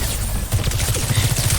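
Rapid automatic gunfire from a shooter video game, a dense rattling burst of evenly spaced shots that runs loud and continuous to the end.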